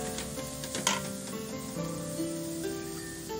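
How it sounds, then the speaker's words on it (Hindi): Vegetables sauté for a minute or two in a pan for a chicken vegetable soup, a steady close sizzle with a few clinks and scrapes of stirring, no talking. "बस इनको हल्का सा हमने 1-2 मिनट के लिए करना है सौते करने"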